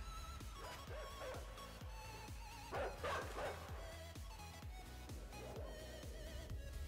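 Dogs in the video game Inside bark and yip repeatedly, sharp rhythmic barks over a continuous game background, with a brief flurry of louder barking near the middle.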